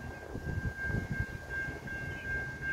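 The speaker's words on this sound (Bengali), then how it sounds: "ট্রেনটি আসছে বলেই আওয়াজ হচ্ছে, ট্রেনটি ঢুকছে।" A double-decker diesel train rolls into Prospect Heights station, bound for Chicago Union Station, with a deep, close rumble, rhythmic low thuds and a steady high whine running throughout.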